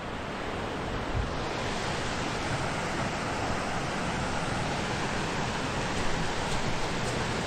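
Rock Creek in Montana rushing past nearby, a dense, steady broadband wash of flowing water with no pauses, heard alone at moderate loudness.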